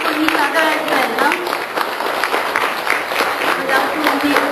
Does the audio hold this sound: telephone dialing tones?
no